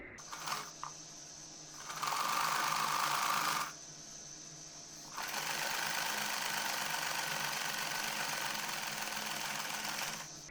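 A sewing machine stitches a fitting seam on a winter frock, running in two bursts, a short whirring run then a longer steady one, separated by quieter pauses, close and clear.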